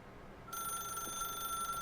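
A telephone rings in The Stanley Parable video game, a steady electronic bell tone starting half a second in and continuing faintly and unbroken with no voices.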